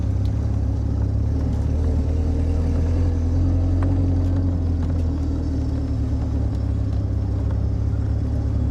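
A 1986 Alfa Romeo Spider Veloce with its 2.0 engine runs close by, a dense, steady low rumble with slight swells as the throttle is blipped, loud and continuous with no talk over it.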